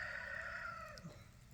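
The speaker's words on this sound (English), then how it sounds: "my rooster really likes the morning too." A rooster crows once in the morning, a single drawn-out call that fades toward the end, heard faintly and from some distance with low background noise.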